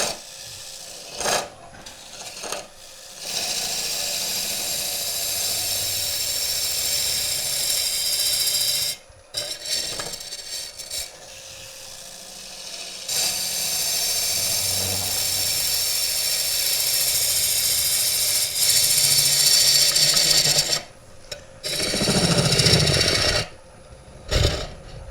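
A wooden bowl being hollowed on a lathe with a Woodcut ProForme tool: a scraping, rasping cut over the motor hum, coming in repeated passes of several seconds separated by short pauses, with no talking.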